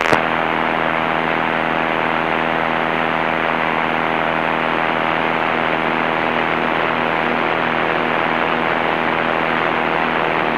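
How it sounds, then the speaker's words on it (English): Steady, loud drone of a Piper Cherokee's single piston engine and propeller during a run-up, holding an even pitch throughout with a sharp onset at the start, heard from inside the cockpit. "Engine sounds normal."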